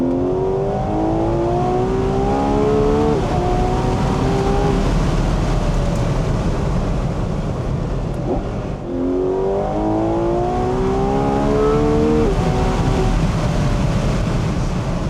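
A Ferrari 12Cilindri Spider's naturally aspirated engine revs up through the gears, rising whine climbing again and again in two long pulls, loud and close.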